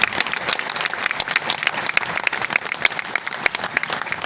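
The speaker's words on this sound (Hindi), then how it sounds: "मैं चाहूँगी एक बार और तालियां बहुत ज़ोर से सुनाई दे कि हमारी ब्रांच ने इसको सक्सेसफुल बनाया।" Sustained, loud audience applause at an ICAI national conference in Gorakhpur, dense steady clapping from a large crowd throughout with no voices.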